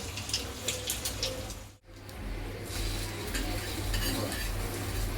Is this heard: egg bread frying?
yes